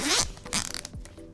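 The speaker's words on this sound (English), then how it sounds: "a satisfying zip" A zipper on a bag or travel case is pulled in quick, close strokes, a crisp rasping zip repeated two or three times in just over a second, with no voices.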